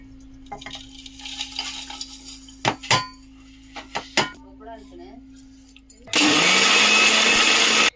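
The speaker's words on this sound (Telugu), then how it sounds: "మిక్సీ పట్టుకుందాం మనం" Kitchen clatter and light knocks give way to a loud mixer grinder grinding cooled spices, roaring steadily for the final two seconds.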